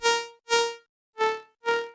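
Synth bass with oscillator B filtered in and out, four short bright tones in an uneven rhythm with gaps between them, close and clean with no voices.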